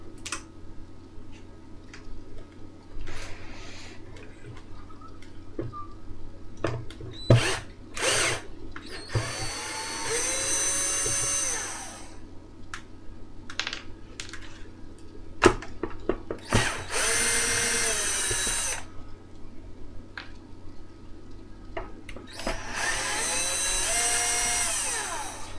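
A cordless drill set to 10.2 volts drives screws out of a circuit board inside a JBL GTO14001 car amplifier under repair, with several short whirring bursts separated by pauses and faint clicks in between.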